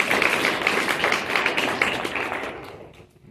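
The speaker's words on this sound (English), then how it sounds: "let's just give a round of applause to Vanessa" Audience applause at a political training event, a dense steady patter of many hands clapping close by, fading out over the last second.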